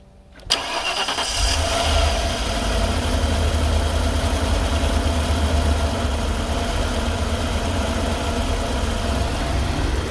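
Van engine cranking and catching after repair work, then settling straight into a steady, fairly low idle with a dense mechanical rumble, close and continuous for several seconds with no talking.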